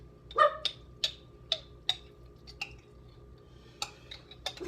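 A dog barks in sharp, short yips in a home kitchen, several quick barks at first then scattered ones, fairly faint and a little distant.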